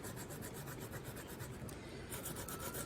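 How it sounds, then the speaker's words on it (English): The back of a silver piece for a model horse bridle is sanded in quick, even rubbing strokes, a soft, steady rasp heard close up with no talk. "first I have to sand the back so there's a good grip"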